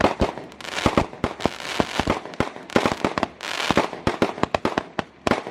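Roman candle and basoka fireworks bursting at New Year 2022 in rapid, irregular succession, loud sharp cracks and booms layered over a continuous crackling roar, with no talking.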